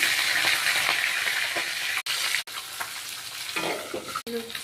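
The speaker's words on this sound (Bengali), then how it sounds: "উল্টি পাল্টি দিয়ে ভেজে নিচ্ছি" Steady crackling sizzle of fish frying in hot oil, with a few brief clinks and pauses as pieces are turned.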